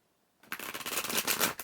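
A deck of numerology cards shuffled once in a brisk riffle lasting about a second, close and crisp after a moment of silence.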